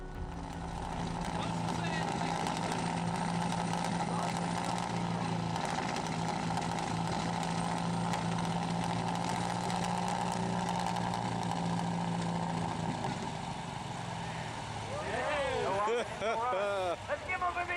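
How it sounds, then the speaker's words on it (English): A diesel truck engine in runaway at a truck pull event drones loudly and steadily, then falters and sputters near the end, with voices heard during the last seconds. "These guys at a truck pull event got to experience diesel runaway firsthand."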